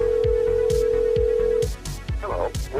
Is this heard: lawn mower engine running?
no